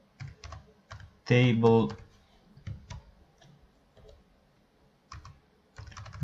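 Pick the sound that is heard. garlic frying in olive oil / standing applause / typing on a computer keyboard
typing on a computer keyboard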